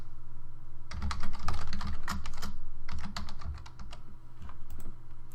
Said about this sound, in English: as I type in the code